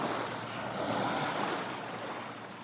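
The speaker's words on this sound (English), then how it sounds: "listen to the wind in the dunes, and enjoy the clear water that has made Es Trenc a Mallorcan icon" Steady wind and breaking waves roll along the sandy shore of Es Trenc beach in Mallorca, a broad, continuous wash of surf with wind noise and no voices.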